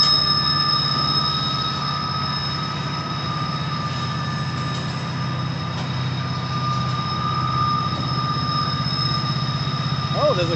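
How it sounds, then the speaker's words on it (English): A Conrail freight train, with several locomotives and an old Conrail car, rolls past on the railroad near Horseshoe Curve. It gives a steady, continuous rumble with a sustained metallic wheel squeal throughout, fairly close and loud. "Oh, there's a Conrail coming up."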